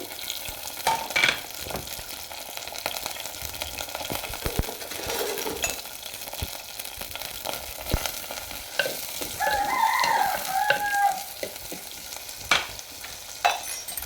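Onion, split dried red chili and curry leaves frying in oil, a steady loud sizzle with frequent spatula scrapes and clinks against the pan, no voices.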